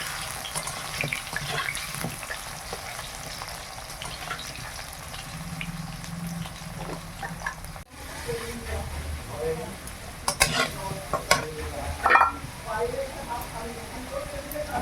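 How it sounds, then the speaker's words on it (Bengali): Salted potatoes for a curry fry in oil with a continuous close sizzle and stirring clatter, while voices talk in the background, the speech growing busier toward the end. "ঝোলের আলুটা ভেজে নেই,"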